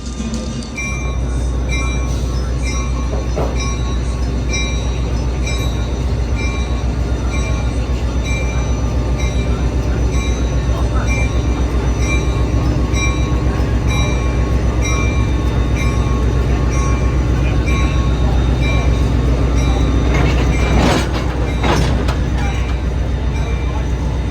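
An Amtrak train hauled by an F40 locomotive rolls past, a loud, sustained rumble of wheels and cars with faint squeals and clanks throughout, close by and continuous.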